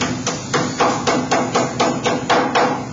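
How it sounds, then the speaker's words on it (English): Rubber mallet striking sheet metal clamped in a brake to bend a duct throat over: nine loud, evenly spaced thuds with a metallic ring, close and steady, with no talking. "then using a rubber mallet,"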